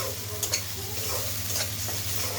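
Spices sizzle and fry in a pan while being stirred and scraped, a steady close crackle with a low hum beneath and brief clinks of the utensil.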